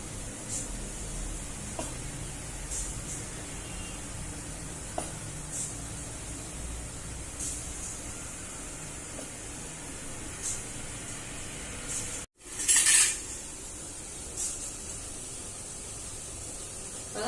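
Water comes to a boil in an idli cooker, a steady hissing, bubbling rush with faint clinks, briefly cut off and then a louder surge of hiss before settling back.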